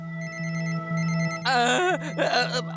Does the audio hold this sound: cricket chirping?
no